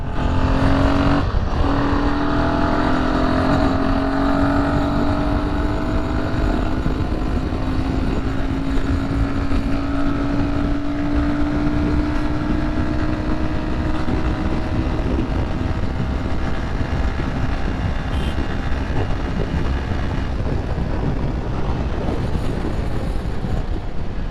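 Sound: Royal Enfield Himalayan 452 motorcycle accelerating during a ride

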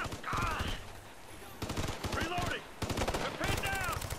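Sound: gunshot in video game Ghost Recon: Future Soldier

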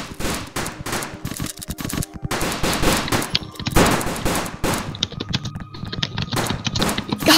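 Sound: gunfire shooting at an invisible wall in Roblox video game

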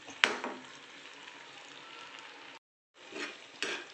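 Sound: stirring almond sheera in a pan

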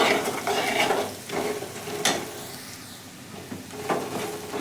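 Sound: stirring turmeric and coriander powder in hot pan

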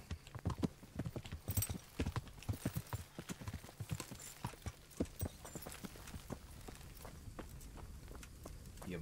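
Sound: horse hooves while riding in the video game Kingdom Come Deliverance

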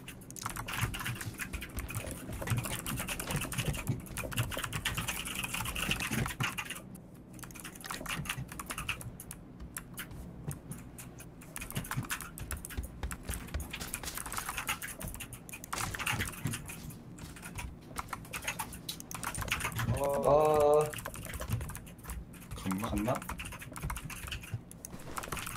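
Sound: computer keyboard typing

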